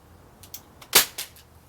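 A Crosman 1077 .177 semi-automatic pellet rifle fires two sharp, close cracks a moment apart, the first much louder. Faint mechanical clicks come before and after the shots in otherwise quiet surroundings.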